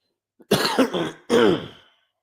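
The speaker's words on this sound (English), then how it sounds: "Excuse me for all the coughing" A few rough, close coughs in quick succession, the last one longer and throaty, with silence around them.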